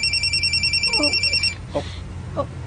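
Telephone ringing with an incoming call, a loud repeating electronic trill in quick pulses that stops after about a second and a half, followed by faint brief voices.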